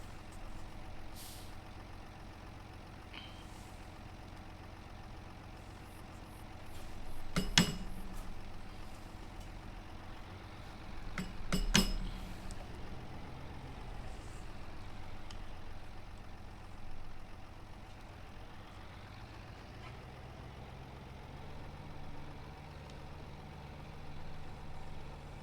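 Tractor engine in a farming video game turning over and settling into a steady idle, with a couple of sharp clanking transients along the way and a low continuous drone throughout, no voices.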